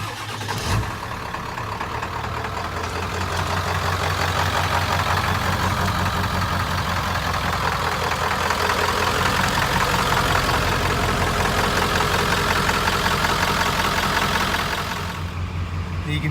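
A 1997 Ford Powerstroke diesel engine idles steadily and close by, a continuous even rumble with no speech, cutting off near the end.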